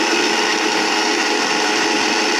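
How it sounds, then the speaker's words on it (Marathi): A mixer grinder blends boiled spinach and peas into a paste for palak paneer, giving a steady, loud, continuous motor whine and churn that runs unchanged throughout, with no talking. "पालक आणि वटाणे हे बॉईल करून घेतलेले आहे त्याची पण आता मिक्सरला"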